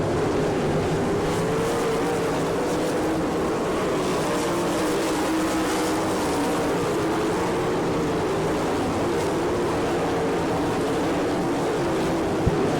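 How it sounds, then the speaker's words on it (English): Sprint cars of the All Star Circuit of Champions race on the dirt oval at Attica, Ohio, their engines a steady, unbroken roar that holds at an even level for the whole stretch with no voices over it. "Now Danny Smith moving to the outside of Gracie for the number 3 spot, halfway done."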